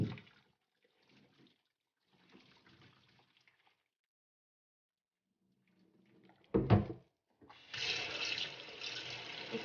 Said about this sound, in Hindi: और फ़ौरन ही इसके ऊपर आपने ठंडा पानी डाल देना है।